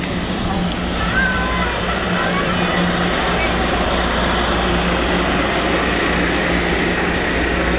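A steady low rumble of a moving Amtrak train fills the space, constant and fairly loud throughout, with faint voices in the background.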